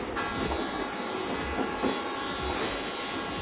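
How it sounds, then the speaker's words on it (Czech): A train's wheels squeal in a loud, steady metallic screech as it brakes, with rumbling and rattling of the rail cars underneath. "I když se strojvedoucí snažil, vlak před naší stuhou neubrzdil."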